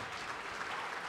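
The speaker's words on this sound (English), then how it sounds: "round of applause for our inductees this year" Applause from a crowd welcoming inductees at a 2019 high school distinguished graduate ceremony, steady dense clapping filling the whole short moment.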